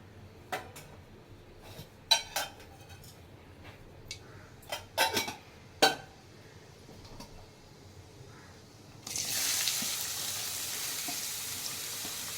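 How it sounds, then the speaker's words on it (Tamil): Chopped onions and cinnamon sticks hit a pan and begin sautéing while cooking a homemade mushroom gravy, with a few sharp clinks and scrapes of a utensil before a steady, close hiss of sizzling oil takes over. "2 பட்டை போட்டுட்டு இதில் வெங்காயத்தை நல்லா வதக்கணும்."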